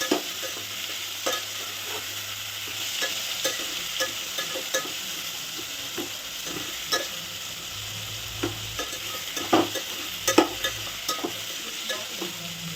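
Onions and vegetables frying in a pan, a continuous close sizzle punctuated by frequent light stirring scrapes and taps throughout.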